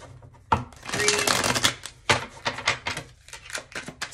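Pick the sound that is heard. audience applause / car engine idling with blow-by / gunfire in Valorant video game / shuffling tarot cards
shuffling tarot cards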